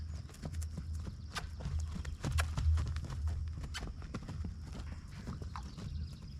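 A horse canters under saddle, its hooves beating in a steady three-beat rhythm, fairly close and moderately loud, with faint talk in the background.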